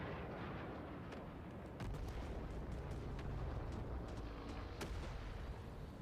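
Sniper gunfire in a shooter video game: sharp, isolated cracks of rifle shots ringing out at intervals over a constant rumble of distant battle noise and artillery, fairly faint and far off.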